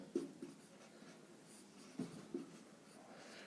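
A pen writes on paper in a quiet room, a faint soft scratching with a few short stroke accents, close but low in level and heard without talking.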